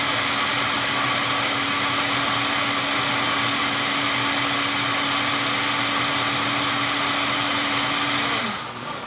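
A blender runs steadily at a loud, close, constant whir as it purées cooked broccoli into a cheesy vegan soup, then winds down in the final second.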